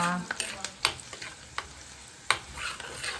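Vegetables fry and are stirred in a pan, with an even close-up sizzle broken by quick scraping strokes of the spoon at an irregular, fairly brisk pace.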